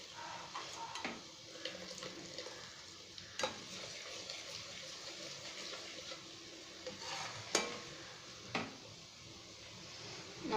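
Homemade coconut hair oil bubbling and sizzling in a pan, a steady frothy crackle with occasional louder pops and stirring clatters, heard alone without talk.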